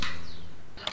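A P35X Evolution air rifle fires a slug downrange at 51 metres: a sharp, brief crack that fades quickly, followed by a second faint snap near the end.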